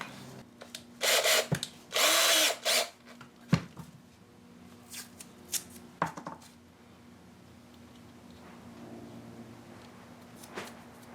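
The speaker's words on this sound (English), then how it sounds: "I will drill something for this head to sit in" Short bursts of a power drill whirring up close, a couple of strong runs early on, then scattered clicks and handling noises in a quiet room.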